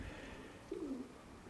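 A single soft pigeon coo, brief and fairly close, rises out of quiet outdoor background with a faint breeze.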